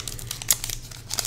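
A Pokémon Hidden Fates card pack wrapper crinkles and tears open in short, close bursts of rustling foil, with a sharper rip around the middle and more crinkling near the end.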